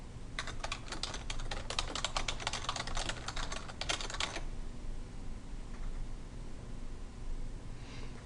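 Rapid typing on a computer keyboard while text is entered into a spreadsheet cell, a dense run of close key clicks for about four seconds that then stops, leaving quiet room noise.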